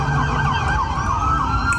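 Police sirens wailing during looting in Los Angeles, a loud, continuous rising-and-falling wail that sounds close and fills the whole moment with no talk.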